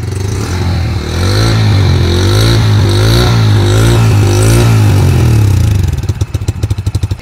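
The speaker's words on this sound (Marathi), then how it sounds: "आपण या गाडीची जी एक्झॉस्ट सायलेन्सर कसा आवाज करतोय हे पाहूया" A Bajaj Freedom CNG motorcycle revs through its exhaust silencer, loud and close, the engine holding a steady throbbing drone at high revs before dropping back to a rapid, choppy idle putter.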